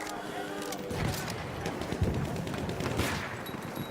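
Rapid gunfire in the video game Battlefield 1 crackles as a dense fusillade of shots and distant blasts, with someone talking over the battle noise.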